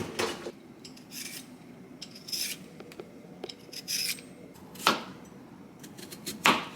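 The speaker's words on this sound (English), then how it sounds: "let's get started on the carrot. Okay. You gotta peel it first." A vegetable peeler scrapes down a carrot in a home kitchen while making kimbap, giving a series of separate rasping strokes at uneven intervals, close and fairly quiet, with no talking.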